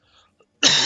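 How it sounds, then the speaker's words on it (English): A single sharp cough breaks in suddenly near the end during a fighting-game commentary session, loud and close after near silence. "Not quite sure where that cough's coming from."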